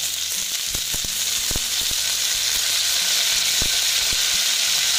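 Ginger paste sizzles and fries in a pan with pumpkin for a dalia khichdi, a steady loud hiss broken by several sharp clicks and scrapes of a spoon stirring, with no voices.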